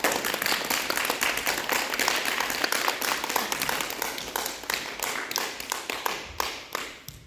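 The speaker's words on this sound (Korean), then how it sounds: "박수 쳐주시고" A church congregation at a Sunday worship service claps in applause, a dense burst of many hands that starts loud and gradually thins and fades over about seven seconds.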